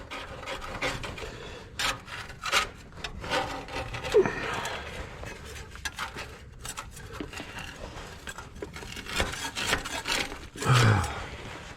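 Rough rasping strokes as parts of a Minneapolis Moline A4T tractor are scraped by hand, irregular scrapes in uneven bursts, close and moderately loud with no talking.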